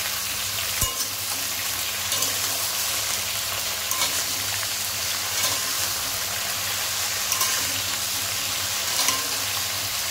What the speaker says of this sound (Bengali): দিয়ে আমি ভালোভাবে নাড়াচাড়া করে কষিয়ে নেব।